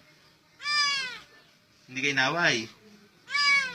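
A cat meows twice, near and clear, with a person speaking briefly between the two meows.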